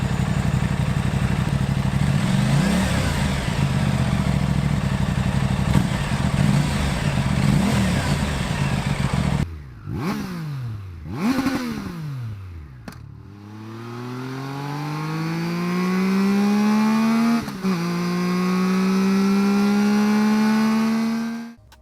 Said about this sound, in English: Let's also have a listen to the stock exhausts of both bikes.